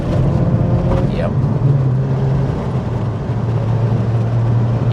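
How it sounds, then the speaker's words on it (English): A 2003 Mazda RX-8 rotary engine hums steadily from inside the cabin while driving, a continuous droning buzz with a shifting low tone as revs change, heard under people talking. "It's just a pleasant little swarm of bees there, isn't it? It is, yeah. It's just got a sports note."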